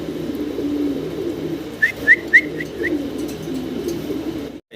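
Black Danish fancy pigeons coo softly at close range over a low murmuring hum, with a quick run of five short bright chirps or whistles near the middle before things go quiet at the end.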